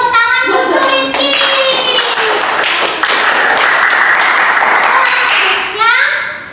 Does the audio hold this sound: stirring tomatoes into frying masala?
no